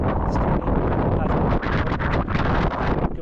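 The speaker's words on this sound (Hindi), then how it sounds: "वहाँ बाहर हवा बहुत तेज़ चल रही है।" Loud, rough wind buffeting the microphone outdoors at Rangrik in the Spiti valley roars continuously, with brief dips in the gusts.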